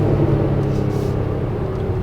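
Mercedes-AMG C43 4MATIC, 2018 model, engine note from inside the car while driving: a steady, continuous low rumble with road noise and no talk.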